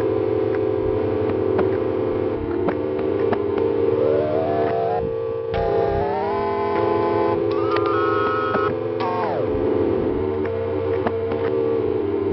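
A tape loop drone run through a Montreal Assembly Count to 5 pedal, sustained tonal hum with pitch-bending, warbling layers and sliding glides, steady and loud throughout with no voices.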